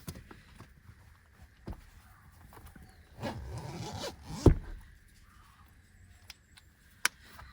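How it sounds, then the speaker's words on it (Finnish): A zipper on a fleece jacket is done up outdoors, heard as a rasping pull of about a second among rustling clothing and scattered knocks, fairly close and without talk. "Vetoketju meni väärinpäin."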